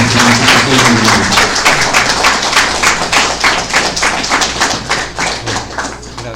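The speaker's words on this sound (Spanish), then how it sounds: "creo que los doctores se merecen unas fuertes palmas" Students give a strong round of applause for visiting doctors at the close of a lecture, a dense steady clapping that carries through the whole stretch, loud and close, with a low voice briefly audible at the start.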